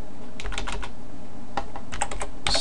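Command being typed on a computer keyboard while configuring an Ubuntu server: short bursts of quick, close key clicks, a brief pause, then another run of keystrokes ending in a sharper press.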